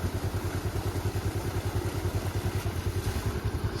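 A small two-wheeler engine idles steadily close by, its rapid even putter continuing throughout with no voices.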